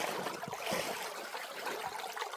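Creek water flows through a river sluice, a continuous close rushing trickle at steady volume with a few low gurgles, no voices.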